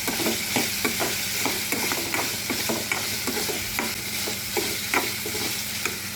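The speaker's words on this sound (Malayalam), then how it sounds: "ലിവർ ഇട്ട് കൊടുത്തു. അത് നല്ലതുപോലെ ഒന്ന് വഴറ്റണം." Liver sautéing in a pan, with a continuous close sizzle and steady, regular scraping stirs of a utensil throughout.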